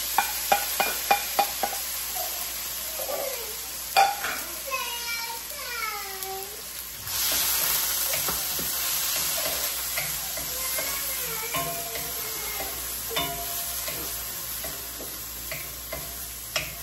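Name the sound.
onion frying and being stirred in a pan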